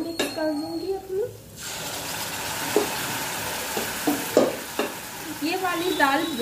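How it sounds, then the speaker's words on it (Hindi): Moong dal being stirred into a sizzling tempering with coriander powder, the spoon scraping in several separate strokes over a steady low fry with a few brief clinks and a voice murmuring faintly in the background. "इसे हल्का सा चला के अब मैं इसमें दाल मिक्स कर दूंगी अपनी"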